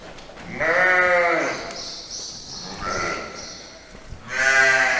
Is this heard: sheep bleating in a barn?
yes